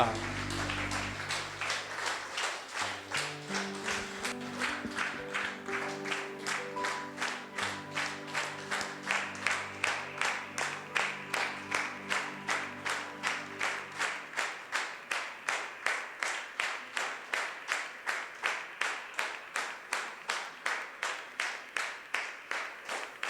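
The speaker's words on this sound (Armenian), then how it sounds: "Եկեք Հիսուսին ծափանք" A church congregation claps for Jesus in a steady, loud rhythm that carries through the whole stretch, with singing and instruments underneath for the first half before the clapping continues alone.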